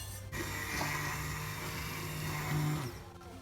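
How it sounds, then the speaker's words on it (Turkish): A blender runs for about three seconds, purée-ing a pot of softened soup thickened with toasted flour, loud and close with a steady whirring motor tone that holds throughout and rises briefly near the end before cutting off, with no talk. "Şöyle blenderdan geçirdim."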